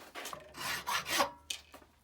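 The back of a Stanley blade holder is lightly flattened with a few short, rasping filing strokes, close and uneven in rhythm, with no speech.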